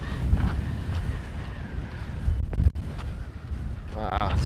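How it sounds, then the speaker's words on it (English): Wind gusts outdoors on a trail, buffeting the microphone with a rough, low rumble that swells and drops, while someone talks over it. "it's pretty windy right here"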